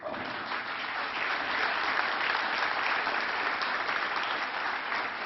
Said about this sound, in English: And with that applause still going, would the judges please stand and receive our very warm thanks